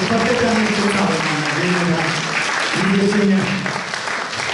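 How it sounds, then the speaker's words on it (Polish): Sustained audience applause after a memorial music concert, loud steady clapping from a large hall crowd, with a voice speaking over it. "Piękne, wielkie brawa, niesamowite."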